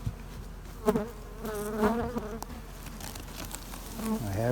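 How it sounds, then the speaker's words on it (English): Bees buzz close by, their droning hum rising and falling as they fly around, with a few soft taps and knocks in the background. "Ooh, I have the bees."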